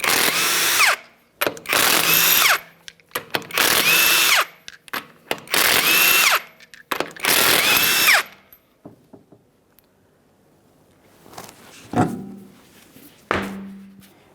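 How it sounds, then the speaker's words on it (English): A power tool, likely an impact wrench, spins off the five 22mm wheel lug nuts on an Acura MDX in about five loud whirring bursts, then two sharp thunks from parts being handled in a quiet workshop. "we're going to remove the wheel by removing all 5 of our 22mm lug nuts"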